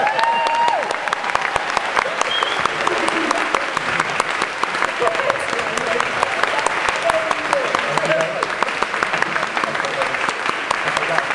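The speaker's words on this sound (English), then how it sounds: "round of applause" An audience at a talent show bursts into sustained, dense applause, a loud wash of clapping that carries evenly throughout with no break.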